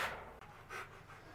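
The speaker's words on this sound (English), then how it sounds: "If you guys hear panting in the background," A dog pants faintly in the background of a quiet kitchen, giving a few soft, quick breaths with a brief gap between them.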